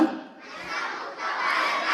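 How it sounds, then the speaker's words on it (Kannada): Schoolchildren at a Nasha Mukti Bharat Abhiyaan event in Kodiyala raise a loud, sustained crowd shout and cheer lasting about two seconds. The sound swells slightly toward the end. "ಜೋರಾಗಿ ಚಪ್ಪಾಳೆ ನಿಮಗೋಸ್ಕರ"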